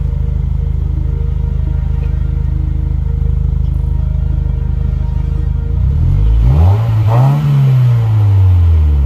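A 2020 Subaru WRX with a SPEC D cat-back exhaust idles with a steady, deep, loud drone, then is revved several times in rising and falling surges that end in a low rumble.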